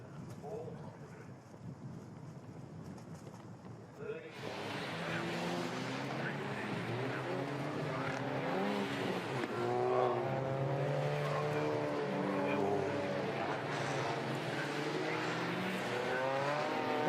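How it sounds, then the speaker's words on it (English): TCR touring cars head out onto the green flag lap at Croft circuit, engines droning steadily at moderate distance after a quieter windy start, with a commentator talking over them. "Cars making their way onto their green flag lap now"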